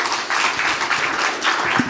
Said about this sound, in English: Then another round of applause for the team.